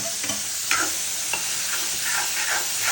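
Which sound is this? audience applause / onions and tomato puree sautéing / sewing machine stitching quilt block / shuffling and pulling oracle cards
onions and tomato puree sautéing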